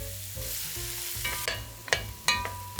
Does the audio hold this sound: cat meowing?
no